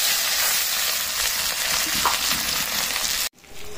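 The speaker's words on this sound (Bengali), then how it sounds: "পেঁয়াজটা লাল লাল ভাজা হয়ে এসছে" Onions sizzle loudly in hot oil in a pan with dried red chilies and bay leaf, a steady crackling hiss that cuts off abruptly near the end.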